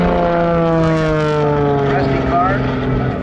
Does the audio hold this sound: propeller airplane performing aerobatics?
yes